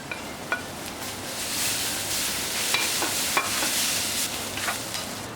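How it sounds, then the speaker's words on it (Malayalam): Spices and spice powders are sautéed with coriander and mint leaves in a pan for a stuffed chicken filling: a steady close sizzle, with light scraping and clicking spatula strokes throughout. "മല്ലിയിലയും പുതിനയിലയും ഇതിലേക്ക് ചേർത്ത് വഴറ്റി കൊടുക്കാം"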